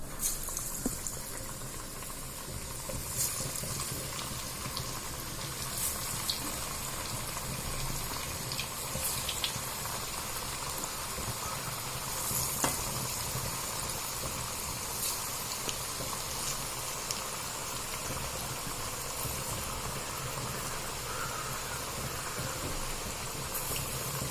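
Parippuvada lentil fritters deep-frying in hot oil, a steady close sizzling hiss with faint crackles running unbroken throughout, no voices.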